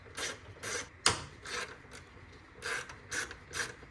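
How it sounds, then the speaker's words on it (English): Hex bolts being undone on the intake of a Mazda 2.2 Skyactiv diesel engine, with several soft ratcheting bursts and one sharp metallic click, close and quiet with no talk. "Undo these two bolts for the intake screw so that you can remove this as one part."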